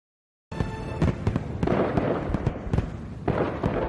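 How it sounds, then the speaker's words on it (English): Fireworks bursting in a series of sharp pops and booms at irregular intervals, fairly loud and close, with crackling decay between blasts and no talking. "The fireworks are so beautiful."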